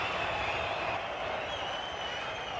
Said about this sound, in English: Acknowledges the applause